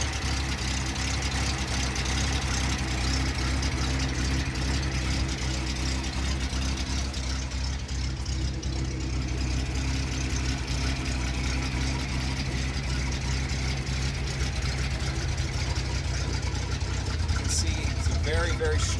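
A 1973 Datsun 240Z engine idles steadily and evenly nearby, a continuous low rumble with quiet valvetrain that holds without revving for the whole stretch.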